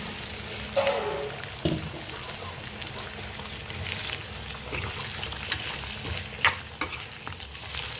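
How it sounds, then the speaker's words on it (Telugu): Pieces of venison sizzle and fry in a pan while a utensil stirs them. The scraping and clinking are close and fairly quiet over the steady frying hiss. "బాగా కలిపి వేసుకోవాలి."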